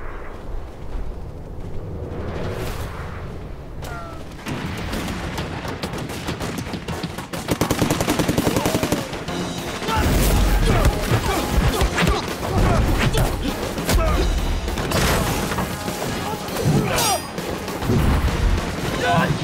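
Gunfire erupts in a dramatic battle scene, with bursts of rapid shots and heavy blasts building in intensity over a rumbling backdrop, loud and chaotic.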